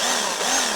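A battery-powered water jet gun's motor whirs steadily with a drill-like buzzing tone, loud and close, running continuously for under a second in a parking lot with no talking.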